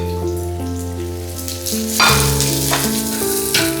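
Chinese potato stir-fry with garlic, crushed chilli and curry leaves sizzles steadily in a pan for a Kerala meal, a close, continuous frying hiss beneath a prominent layer of background music.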